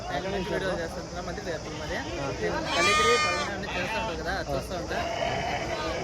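Goats bleat at a busy goat market, several loud overlapping calls with one especially strong cry near the middle, all under continuous nearby chatter and talk from people in the crowd.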